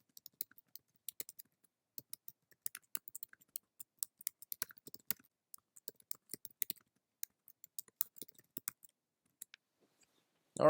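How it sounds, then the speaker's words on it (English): Light keystrokes tap on a computer keyboard in a quiet room, faint and close, in uneven bursts with short pauses, ending with a brief louder bump. "So let's go ahead and type something."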